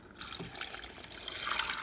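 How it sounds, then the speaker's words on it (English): Brine water pours into a crock of dill pickles packed with grape leaves, a soft steady splash and trickle heard up close with no talk. "And now I'm gonna top it off with more of my brine water."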